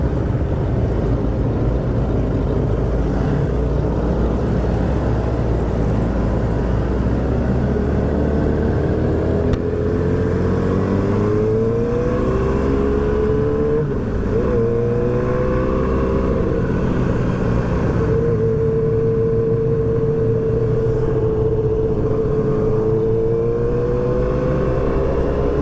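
A Yamaha R6 sport motorcycle engine revs loudly and close up, its pitch swelling and sliding up and down in long sweeps over a sustained roar.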